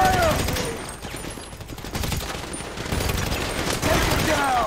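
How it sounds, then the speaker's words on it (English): Dense gunfire during a heist in GTA V: a continuous fusillade of overlapping shots, loud and close, with shouted voices breaking in at the start and end. "We're receiving fire!"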